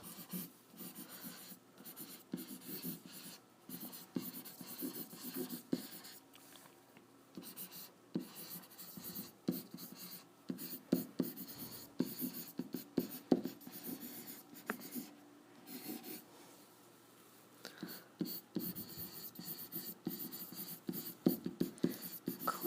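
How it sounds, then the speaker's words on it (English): A pen scratching out a math note on paper fills the stretch with steady, soft, close strokes and taps. The writing runs continuously with small pauses and no talking. "So let's write that down."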